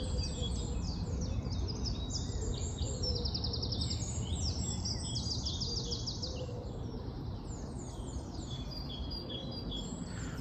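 A nightingale sings a simple, melodic warbling call in woodland, its phrases repeating steadily at moderate distance over a constant wash of background noise, with other birds calling around it.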